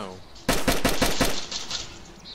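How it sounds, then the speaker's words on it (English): Rapid burst of about six gunshots fired in quick succession in the DayZ survival game, loud and close, followed by a fading echo tail. "I hear other gunshots beside you."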